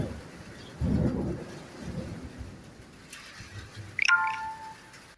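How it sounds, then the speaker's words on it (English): Rain falling with rumbles of thunder, a deep roll early on, then a sharp crack followed by a ringing tone near the end. "There it is, the rain."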